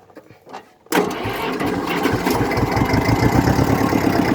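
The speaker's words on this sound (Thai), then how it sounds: "ดี๋ยวฟังเสียงเครื่องกันนะครับ ก็บิด สวิตช์กุญแจนะครับ" An Iseki TS2510 tractor's engine starts after a key turn: a few quiet clicks, then a sudden crank that catches into a loud, close, steady chugging idle.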